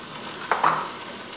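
A brief scrape of a spoon stirring seasoned lamb stew in an Uno Casa Dutch oven, two short clinks over a soft background sizzle.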